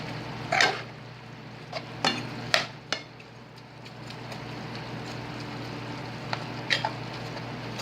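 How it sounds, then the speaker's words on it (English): Meat being stirred in a hot pan for a lasagna sauce, with a few sharp utensil scrapes and clinks early on over a steady low sizzle that continues quietly to the end. "So give it a good stir."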